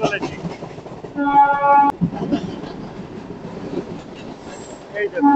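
A MEMU express train running into Burnpur railway station beside the IISCO steel plant, heard from on board as a steady rumble with brief wheel squeal and clatter, under a voice.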